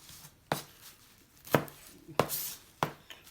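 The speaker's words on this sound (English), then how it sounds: "next I'm going to take some onion and cilantro and chop this up" Knife chopping onion and cilantro on a cutting board: four sharp, separate close thuds at an uneven pace, with quiet gaps between them and no talking.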